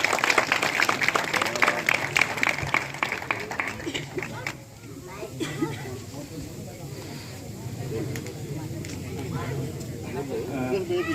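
Crowd applause at a Guru Ravidas Jayanti gathering in Kalwan honors Baldev ji, loud and dense at first, then thinning into a softer, scattered patter beneath ongoing talk and crowd murmur.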